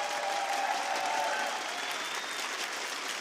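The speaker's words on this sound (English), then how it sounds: "Please give a big round of applause to Amelia and Simon, game designers on Rainb" Steady applause from a crowd at the Rainbow Six Siege Six Invitational event, a continuous wash of clapping that holds at an even level throughout.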